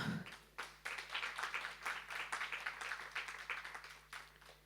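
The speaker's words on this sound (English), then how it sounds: "Another round of applause." Scattered clapping from a small workshop audience, a steady run of soft, uneven claps that stays faint and somewhat distant for the whole stretch.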